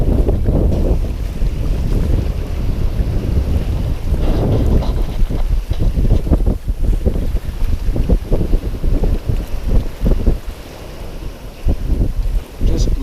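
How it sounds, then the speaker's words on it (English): A sailboat runs across the open ocean in steady trade winds, loud wind roaring over the microphone and water rushing and slapping along the hull throughout. "Just lovely ocean sailing."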